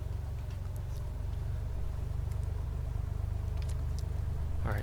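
Piper Comanche aircraft engine running at 1,000 rpm in a flight simulator: a steady, even, pulsing engine drone held at a constant low pitch, with faint clicks over it and no speech.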